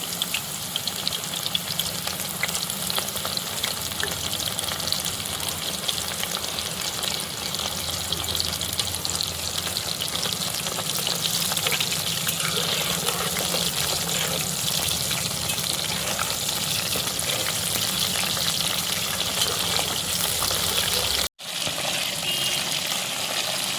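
Soya chunks (meal maker) frying in hot oil for pakodi, a steady dense sizzle and bubbling that holds evenly throughout, with a brief drop to near silence shortly before the end.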